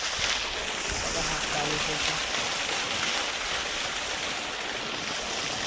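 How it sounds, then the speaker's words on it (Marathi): Water from a 5 HP Ecozen solar pump gushes through a pipe over solar panels to wash off dust, making a loud, steady rushing spray heard close up without a break. "ते धूळ आता त्याच पाईपाने साफ करायचं काम पण चालू आहे"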